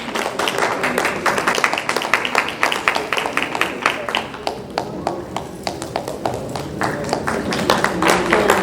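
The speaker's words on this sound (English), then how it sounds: "Please give a very big round of applause." Audience applause at an awards ceremony, a sustained crowd of clapping hands filling the room with dense rapid claps that swell again toward the end.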